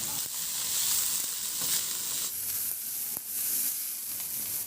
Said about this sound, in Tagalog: igisa ko na rin yung bawang